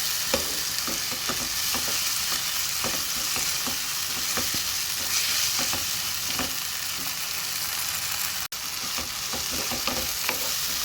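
Green chilies and onion masala for mutton biryani fry in a pan with a constant soft sizzle, broken by regular scraping strokes as the mixture is stirred, fairly quiet and with no voices.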